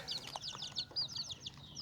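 Wild junglefowl chicks and hens with soft, repeated high clucks and peeps close by, a quick chattering run of calls with a few lower clucks.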